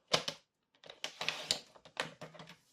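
Card stock being cut into a strip with a paper trimmer for a triple fold card, a series of close, crisp clicks and slicing sounds in short bursts, fairly quiet.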